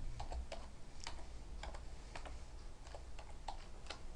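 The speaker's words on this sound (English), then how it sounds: "I'm going to type the word Photoshop." Quiet typing on a computer keyboard as a word is entered: a loose run of soft individual key clicks, irregularly spaced over a steady background hiss, with no voices.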